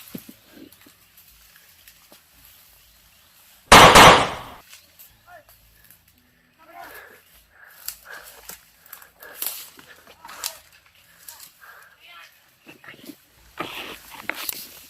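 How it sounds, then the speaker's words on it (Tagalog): A single loud, sharp gunshot from a gun fired outdoors while hunting, a sudden close burst that decays quickly, followed by quieter rustling movement and scattered talk. "Pumutok yung baril ko."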